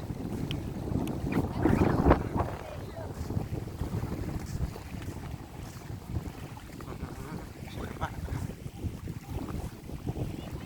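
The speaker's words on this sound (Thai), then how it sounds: "ฟังเสียงลมเรียวขึ้น" Wind blows across a sandy beach at Na Sai, a continuous low rushing roar with gusty buffeting on the microphone, strongest early on and then steady.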